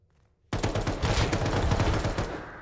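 Gunfire from the game Rust bursts in suddenly after a short quiet moment, a loud rapid volley of shots that continues for about two seconds before tapering off.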